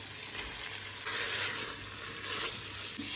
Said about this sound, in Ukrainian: Нехай м'ясо з ковбасами пересмажиться хвилину дві